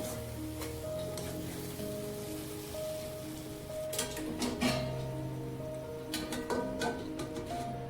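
Stuffed brinjal masala frying on a low flame in a pan, a soft continuous sizzle broken by scraping stirring strokes that grow busier midway, with no voices.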